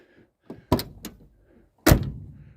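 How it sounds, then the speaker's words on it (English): The door of a car in a three-car garage thuds shut, preceded by a few clicks and latch knocks and ending in one solid, close slam, with no talking. "just listen to how that door closes"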